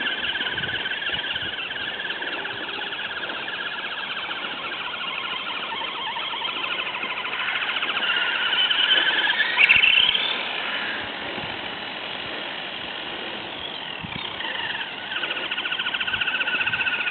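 An FTX Kanyon RC vehicle squealing, a continuous high-pitched whine that holds steady, swells louder midway, then settles back, with no talking.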